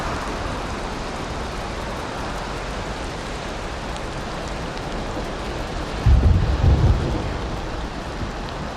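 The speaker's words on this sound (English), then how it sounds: "Man, I just love thunderstorms." Video game thunderstorm with heavy steady rain hissing throughout, and a deep rumble of thunder rolling in near the end before fading back under the downpour.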